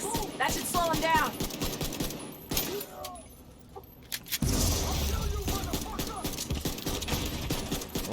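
Rapid bursts of gunfire from The Division 2, set in New York, crackle close and loud, broken by a brief lull before a dense, sustained volley resumes, with voices speaking in the opening seconds.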